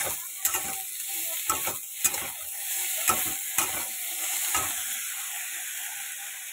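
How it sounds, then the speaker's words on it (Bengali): Potato and aubergine pieces fry in oil in a pan, a soft continuous sizzle broken by several quick stirring scrapes early on that then fade, leaving a quieter hiss, close by and without speech. "আলু বেগুনটা ভাজা হয়ে গেছে"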